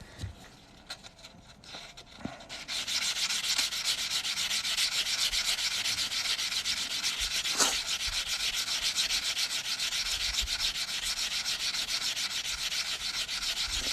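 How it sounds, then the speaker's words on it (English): Copper coin ring being sanded, a steady, loud hissing rub that starts after a few soft handling knocks and continues evenly to the end, close up. "I am going to sand this up one more time."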